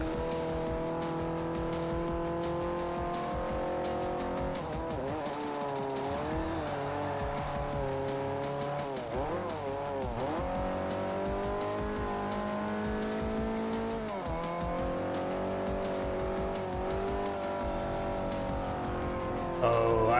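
Ford Fiesta racing in Forza Motorsport 4, a continuous engine drone that rises and falls through gear changes, with long tonal tire squeals in the corners. It runs steady and fairly loud throughout.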